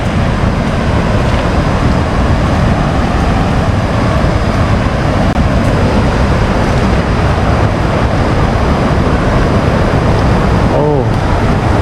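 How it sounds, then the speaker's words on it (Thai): Continuous broadband roar of Soi Sawan waterfall in Khong Chiam, Ubon Ratchathani, heard from a distance yet loud and unvarying throughout, with a brief voice near the end. "ได้ยินเสียงน้ำตกไกลๆนะครับ เสียงดัง"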